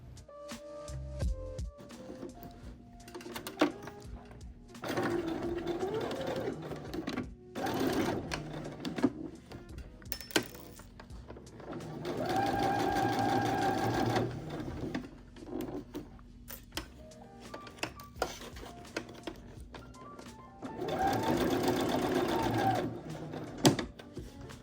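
A sewing machine stitches a denim patchwork bucket hat in several loud, steady runs separated by short pauses and handling noise, with no voices.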